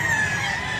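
White Kelso bullstag rooster crowing at a chicken market in Grotto, a single loud close crow with a strained, buzzy tone, cut off within a second.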